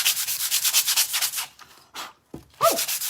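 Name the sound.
sanding a Dollar Tree bunny with rough grit sandpaper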